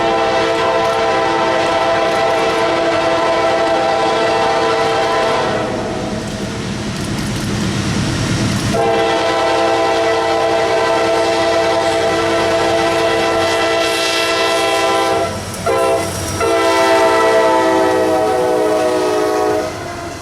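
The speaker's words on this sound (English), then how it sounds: "My first train of the day was northbound intermodal train 231" A loud northbound intermodal freight train rumbles past close by near Atlanta, its horn blaring in long sustained blasts over the steady roll and clatter of cars.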